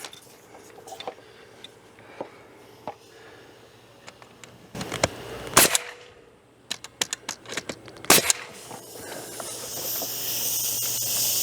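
Ring shank nails hammered into replacement corner trim on a house, a handful of sharp, loud strikes spread unevenly across the clip, with quieter taps and hissy background noise between them.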